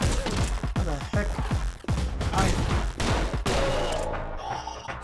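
Rapid gunfire in the first-person action video game Anger Foot, dense bursts of loud shots and impacts close up, thinning out toward the end.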